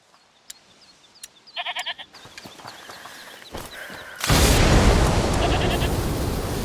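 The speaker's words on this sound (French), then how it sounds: "Écoutez, c'est la chèvre du monsieur." A goat in the video game A Plague Tale Requiem bleats in short wavering calls amid clicks and thuds, then a loud broad roar of game noise swells in and continues to the end.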